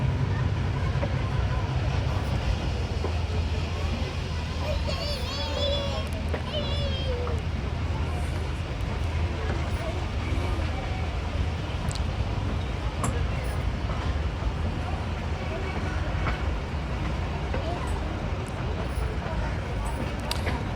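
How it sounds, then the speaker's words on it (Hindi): The Hazara Express pulls out of Ghungrila station with a continuous low rumble of wheels and engine, steady and fairly close over about twenty seconds, with people talking over it. "घुंगरीला से डिपार्चर हो रहा है 11 अब हज़ारा एक्सप्रेस का।"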